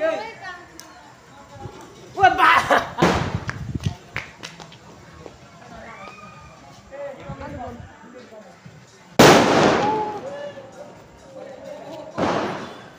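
Small firecracker bombs burst at a Laxmi Puja festival celebration: a cluster of sharp bangs early on, then two more loud single cracks, with people chattering between them.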